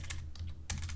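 Quick, close keystrokes clatter on a computer keyboard in a short burst of typing with no voice.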